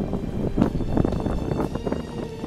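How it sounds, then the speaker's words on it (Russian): Cold, damp, piercing wind on an exposed southern Ural mountain summit, blowing in a steady loud roar with gusty buffeting across the microphone. "Холодный, промозглый, пронизывающий ветер."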